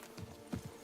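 Roach, a horse in The Witcher 3, gallops in a short burst of hoof clip-clops, a few muffled beats close by with no one talking.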